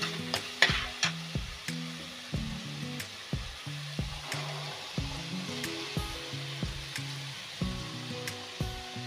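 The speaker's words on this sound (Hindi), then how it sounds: "चनों को अच्छे से मिक्स करते हैं।" Chickpeas are stirred into a spiced masala frying in oil, giving a low sizzle with regular rhythmic scraping strokes of a spoon, quiet and close, with soft background music and no talking.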